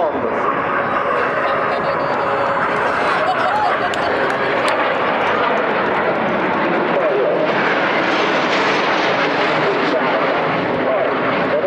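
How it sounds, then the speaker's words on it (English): Frecce Tricolori jet aircraft perform the bomb-split manoeuvre at an airshow, a loud, continuous roar of jet engines that swells steadily, with an announcer's voice over the PA underneath. "Ladies and gentlemen, this is the amazing split of the bomb."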